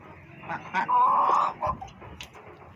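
A few nearby chicken clucks, with one drawn-out squawk in the middle and softer clucks around it.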